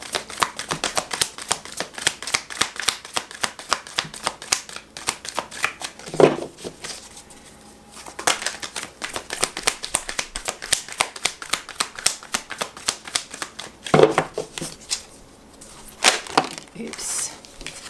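A deck of tarot cards is riffled and shuffled close by in rapid, rhythmic flutters, with occasional louder slaps as the cards are squared, continuing throughout.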